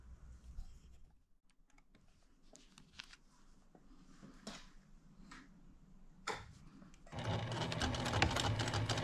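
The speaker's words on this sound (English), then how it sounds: "you can just watch me as I cut up and stitch on different scraps" A sewing machine stitches fabric scraps for a patchwork Christmas stocking, starting with soft scattered clicks and ticks, then building into a steady, louder whirring run close by.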